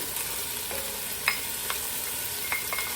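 Lean 85/15 ground beef with chopped onion browns in a pot, a soft steady sizzle broken by a few sharp scrapes and clicks of stirring, fairly faint and without talk.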